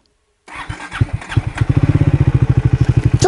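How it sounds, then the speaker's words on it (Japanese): A Triumph Speed 400 or Scrambler 400 X motorcycle engine cranks with a few uneven bursts, then catches and settles into a loud, rapid, regular idle thump close by. "エンジンの音、"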